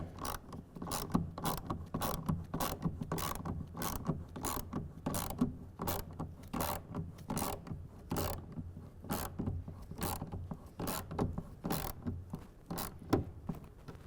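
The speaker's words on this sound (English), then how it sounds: "And tighten that down again to 10 foot-pounds." A ratchet wrench clicks in a fast, even rhythm, tightening a clamp for a Gator EFX hard folding tonneau cover on a 2024 Ford F-150. Repeated ratcheting strokes continue close and clear with no talk.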